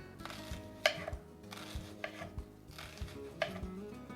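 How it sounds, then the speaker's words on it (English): A knife cuts through an ingredient for a traditional machaca dish on a cutting board, with a few crisp, separate chops and knocks spread out at close range and no talking. "We're gonna cut this in half"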